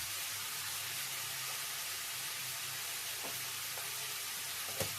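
Ground spices including chilli, cumin, coriander and turmeric sizzle steadily in a pan for a chicken dish, a continuous hiss with a few light stirring scrapes and a sharp clink near the end.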